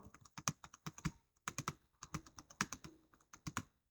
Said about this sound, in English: we will type table 1 top industry sector in the first cell of row 1